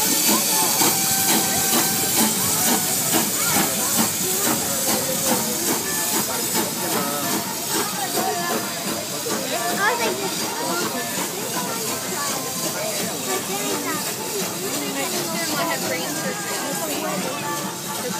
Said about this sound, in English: Here comes the choo-choo train.